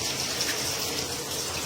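Water running steadily at a stream or river site, a continuous close rushing flow with a gushing, splashing texture and no voices.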